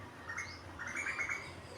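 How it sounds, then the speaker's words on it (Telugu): A bird building a nest near a tree gives faint, high chirps in two short bursts against a quiet outdoor background, with no voices. "ఈ పక్షి అయితే ఇక్కడుంది, ఇక్కడ"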